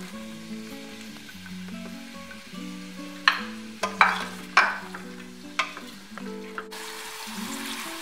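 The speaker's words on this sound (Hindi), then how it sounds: "फिर इसमें बारीक कटे हुए प्याज डाल दें," Finely chopped onions fry in a pot for a chicken curry, giving a soft steady sizzle with a few sharp clacks and scrapes from stirring, while light instrumental music plays underneath.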